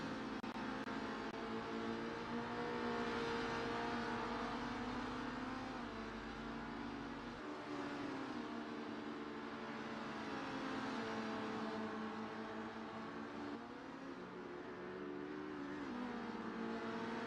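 Touring cars racing in close quarters in a sim racing video game, several engines droning steadily at a low level with gear shifts and changes in pitch, no talking.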